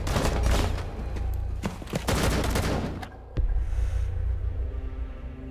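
Gunfire in Rainbow Six Siege during a team deathmatch bomb round at Hereford Base comes as a loud, dense fusillade of rapid shots that briefly drops off, then resumes with a heavy boom and continued rumbling fire.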